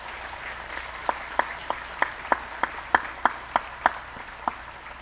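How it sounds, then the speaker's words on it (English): Sparse, scattered clapping from a small part of a graduation ceremony audience, individual hand claps popping out one by one at an irregular pace over a quiet room hum. "So if you could please give her and the administrative team here at Groves a round of applause"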